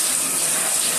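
Water runs steadily from a shower or tap while shampoo is rinsed out of hair, a loud, close, continuous hiss and gush with no break and no talking.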